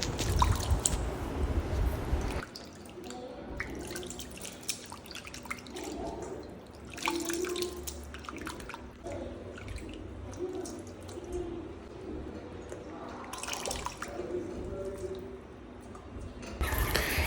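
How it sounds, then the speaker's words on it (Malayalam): Clam meat being washed by hand in water, with continuous close splashing, dripping and sloshing, running water prominent at the start and end, and no talking. "ഈ കക്കയിറച്ചി എല്ലാം നമുക്കൊന്ന് കഴുകി വൃത്തിയാക്കി എടുക്കാം"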